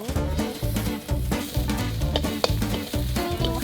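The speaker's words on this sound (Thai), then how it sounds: "ผัดพริกแกงกับหมูสามชั้นลงไปได้เลย" Curry paste stir-fried in oil in a pan with pork belly, a steady loud sizzle broken by rhythmic scraping and stirring strokes of a utensil, with no talking.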